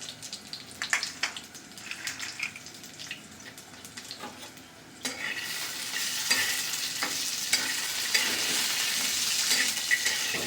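Peanuts roast and crackle in a pan for a fasting-day chilli thecha, first with scattered scraping stirs and clinks, then a steady, louder frying hiss with continued stirring.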